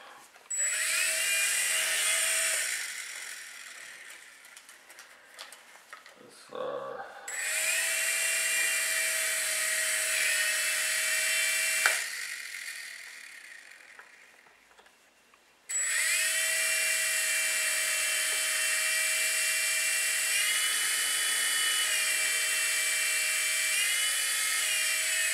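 A micro RC helicopter's tail rotor spins with a thin, high buzzing whine that runs in three spells, stopping and restarting with a brief clatter between, close by and fairly loud.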